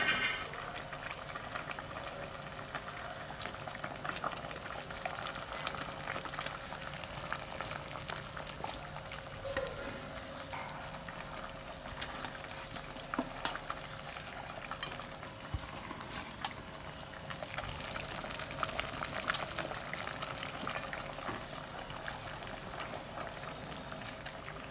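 River carp curry with old black tamarind simmering and reducing in a pot, a steady low bubbling hiss that continues evenly throughout at moderate volume with no talking.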